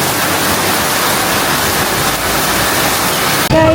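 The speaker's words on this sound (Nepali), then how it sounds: "पानी झर्दैछ" Heavy rain mixed with hail pours down during a March visit to Shillong, a dense, steady, loud roar of falling water that cuts off abruptly near the end, where a brief tonal sound appears.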